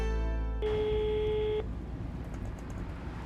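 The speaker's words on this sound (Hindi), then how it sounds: "इस चेतन के बच्चे का भी अभी फोन आना था।" A phone gives a single sustained electronic ring tone, a steady beep lasting about a second over a noisy background hum, then cuts off, leaving only the room noise.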